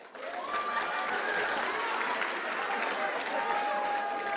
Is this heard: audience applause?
yes